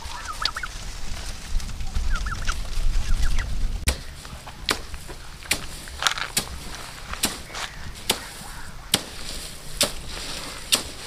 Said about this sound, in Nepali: सो कुखुराहरू चाहिँ यसरी बस्छ क्या यहाँ